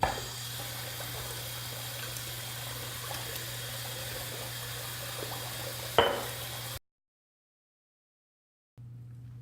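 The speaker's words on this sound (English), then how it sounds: "Hot water, I'm going to swirl it around, bring it up to temperature." Hot water runs steadily from a tap as a razor is heated for shaving, a continuous close splashing stream with a brief clatter near the end before it cuts off into silence and then resumes faintly.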